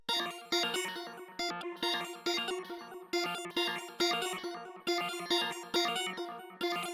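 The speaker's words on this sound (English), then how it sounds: "Next up, we got this little glitchy ARP pluck kind of sound" Glitchy arpeggiated synth pluck, the Sorry for the ARP sound from the Make Trap Great Again Zonology kit, tracing piano root notes in choppy, stuttering bursts with abrupt dropouts, fairly loud and alone.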